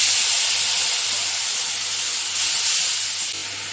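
Water splashed onto turmeric and chilli powder in hot oil gives a loud, bright, continuous hissing sizzle that fades slightly toward the end.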